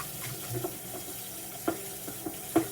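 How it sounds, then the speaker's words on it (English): Water runs from a kitchen tap as a bowl is rinsed, a faint steady splash with a few soft clinks and knocks of the bowl, quiet and close. "I want to rinse this bowl out here."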